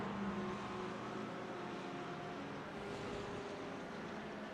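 GT3 race cars, McLarens and a Mercedes, racing at Laguna Seca: a steady, broad engine roar from the pack holds for the whole stretch without a break, fairly distant and even in level.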